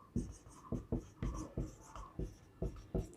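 Marker or chalk writing an arc-length formula for a trigonometry exercise, about eight firm, rhythmic strokes, each a short scraping burst with brief pauses between, close and clear, no voices.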